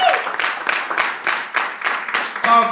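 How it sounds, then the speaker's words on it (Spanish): An audience at a business presentation applauds in a short burst, the clapping pulsing in rhythmic waves of fairly close, loud claps before a brief voice cuts in at the end. "Quiero un fuerte aplauso para Noel y Charlie."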